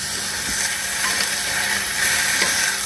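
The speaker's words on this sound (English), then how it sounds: "we're browning the ham" Ham browning in a pan and stirred with a wooden spoon, giving a steady close sizzle with faint scraping and occasional soft knocks throughout.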